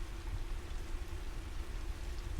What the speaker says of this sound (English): the rain keeps its patient vigil outside